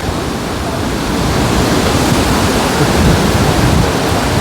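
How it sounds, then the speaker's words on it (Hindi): Sissu waterfall pours down with great pressure, a loud, continuous roaring rush of heavy falling water close by, unbroken throughout. "इतनी प्रेशर में पानी गिर रहा है ऊपर से"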